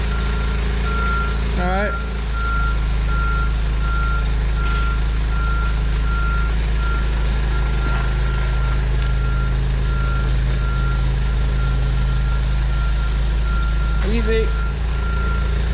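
A Cat D7F dozer reverses with a steady, loud, repeating backup beeper over a low engine rumble, with a few brief words from a man nearby.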